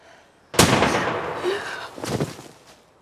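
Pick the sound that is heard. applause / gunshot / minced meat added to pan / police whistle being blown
gunshot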